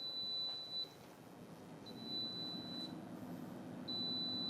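Instant Pot Vortex 5.7-quart air fryer giving three steady, clear single-tone beeps about a second each, evenly spaced, over a low hum of background room noise.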